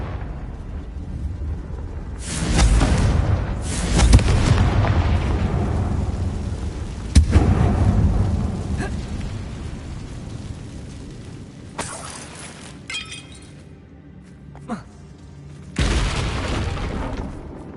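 A Confringo fire spell in Hogwarts Legacy explodes inside a closed mine, setting off several loud booming blasts that rumble and fade, with more bursts following over the clip.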